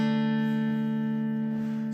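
Acoustic instrument amplified through piezo crystal pickups into a small amp during a living room concert, holding a steady, bright sustained tone with strong even harmonics.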